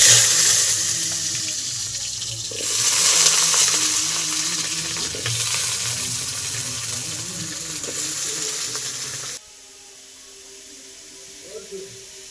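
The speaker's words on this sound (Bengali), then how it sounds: "এবার আমি ওই তেলেই আলুটা ভেজে নেব" Potatoes fry in hot oil already used for luchi, with turmeric and salt added, giving a steady, fairly loud sizzle for about nine seconds that then drops to a quieter hiss.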